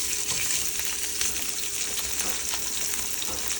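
Fish sizzles skin side down in a hot pan, a steady, loud, hissing fry that holds evenly throughout with no voices over it.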